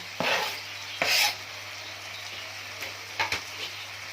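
Green chillies being stirred into chicken frying on a tawa, with a few sharp scraping strokes of the spatula over a steady low sizzle.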